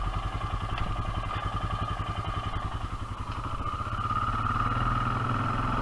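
A Honda Foreman 450 ATV with a faulty electric shifter and starter runs nearby, its engine chugging in a steady rhythmic putter that rises slightly in pitch and loudness toward the end as gears change.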